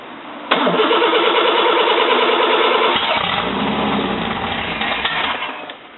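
A cold Toyota 2F inline-six cranks briefly and fires up, catching into a loud, rough, uneven idle that holds steady, then dips and fades slightly toward the end.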